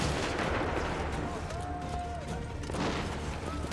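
Muskets fire in volleys in an Assassin's Creed 3 battle at Lexington. Dense, rolling gunfire and booming shots sound from a distance, mixed with battlefield noise and shouting voices.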